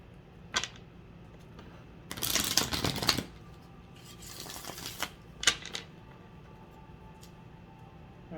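Tarot cards being shuffled by hand: a few sharp riffling bursts and snaps separated by quieter handling, close and without talk.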